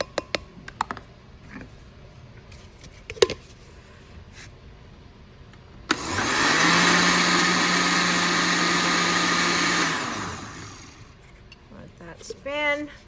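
A blender spins water and art paste in a steady, loud mechanical whir lasting about four seconds, then winds down, with scattered clicks and handling noises before and after.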